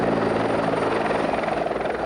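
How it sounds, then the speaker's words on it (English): A rescue helicopter flies over a high-rise building during an evacuation, its rotor making a steady, loud, continuous thudding roar with no voices. "Others were evacuated via helicopter off the roof of the building."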